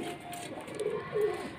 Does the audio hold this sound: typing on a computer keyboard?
no